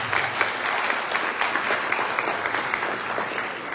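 Audience applause at a university academic-year opening ceremony in Chilca, a sustained burst of many hands clapping with slight surges, filling the whole stretch without speech.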